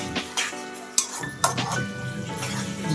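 Chicken curry being mixed in a pot with ginger garlic paste, a spoon scraping and clinking against the metal at close range, with a few sharper knocks over a soft sizzle.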